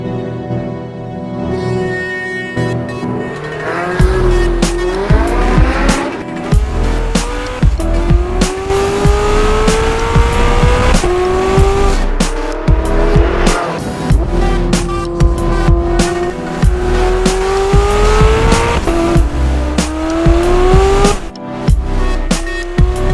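A Porsche 918 hybrid supercar engine roars loudly and close. Its pitch sweeps up and down as it accelerates through the gears, with tires squealing and skidding throughout and no speech.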